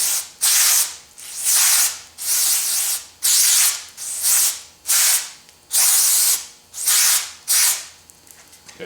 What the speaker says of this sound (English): what I'm using is non-chlorinated brake cleaner